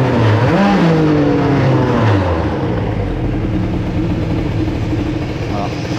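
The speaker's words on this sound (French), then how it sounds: "Un bon coup de gaz pour passer sur les autres circuits" A Bidalot RF 50 WR moped fitted with a 20 mm carburettor revs hard and close, its loud engine note rising and falling in several quick swells before settling into a steady buzzing drone.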